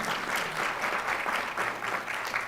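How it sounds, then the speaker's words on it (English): Audience applause at a school board of education meeting, a steady, moderately distant wash of many hands clapping throughout the short stretch, with no talk over it. "round of applause."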